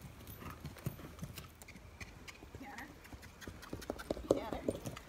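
Spotted saddle horse cantering, its hoofbeats thudding in a quick, uneven three-beat rhythm, moderately close and fairly soft, with a rider speaking now and then over the footfalls.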